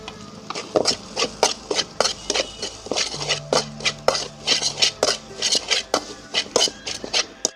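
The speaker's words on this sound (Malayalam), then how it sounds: "ഗരം മസാല എല്ലാം കൂടി ഇട്ട് നല്ലോണം ഒന്ന് മിക്സ് ചെയ്തെടുക്കാം." A spoon stirs Kerala-style egg bhurji with turmeric, salt and garam masala in a pan, making a steady run of rhythmic scraping clinks against the metal, close and clear, with no talking.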